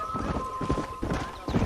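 Horse hooves clip-clopping at a steady walking rhythm in the video game Red Dead Redemption, close and clear, with a faint tonal hum running through the first half.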